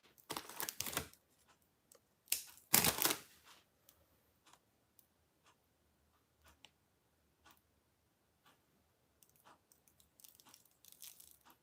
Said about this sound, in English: I'm just cutting them with scissors to get different sizes